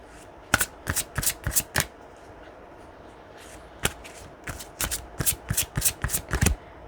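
Romance Angels oracle cards are shuffled in quick bursts of crisp riffling and snapping, one cluster early, then a single flick, then a longer run of rapid shuffles, close and distinct over a quiet room.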